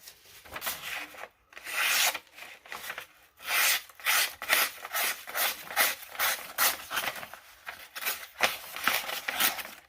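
An Offgrid Black Stallion knife is drawn through test materials in repeated cut tests, giving a series of short rasping, rubbing strokes in an irregular rhythm, close and fairly loud, with brief pauses between cuts and no talking.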